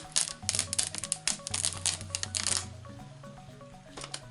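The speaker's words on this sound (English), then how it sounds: "And then we remove our transfer tape." Transfer tape peeled off a wooden charcuterie board, a close run of crackling, ripping peels with quick irregular bursts that thin out toward the end.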